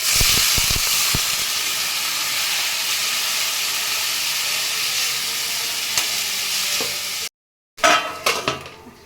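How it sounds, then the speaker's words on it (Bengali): Water poured onto sizzling fried spices in a pan for a vegetarian stalk curry, producing a loud, steady steaming hiss that cuts off abruptly, followed by a few close clattering stirs. "এবার আমি একটু অল্প করে জল দিয়ে দিচ্ছি"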